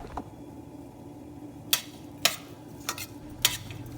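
Spoon stirring salt through chopped vegetables and frozen peas in a pot for veg pulao, a few sharp scraping clinks against the metal spaced over a quiet background.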